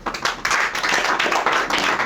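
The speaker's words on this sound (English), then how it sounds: "That's a weak clap." Scattered, uneven clapping from a small audience at a press conference and public tribunal, distinct individual claps in a loose rhythm, fairly close and without talk.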